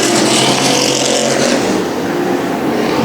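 Super modified race cars roar around an oval track, a loud, steady wash of engine noise with no single pass standing out.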